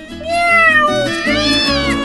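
Domestic cats meow loudly and close at a Thai cat-lovers' show, giving long drawn-out rising and falling cries that overlap one another across the whole stretch.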